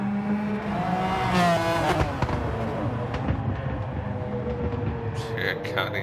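A race car in a sim racing game banging on the downshift, with the engine whine dropping and sharp pops crackling early on, running beneath ongoing commentary.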